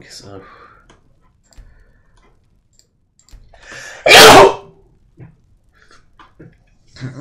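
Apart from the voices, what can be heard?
sneeze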